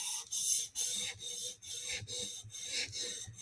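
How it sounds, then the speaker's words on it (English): A knife is drawn across 400 grit Hapstone Premium CBN sharpening stones in a run of about eight quick, rhythmic rasping strokes, each a short scraping hiss with brief gaps between. "jumping up to 400 grit on Hapstone Premium CBN stones"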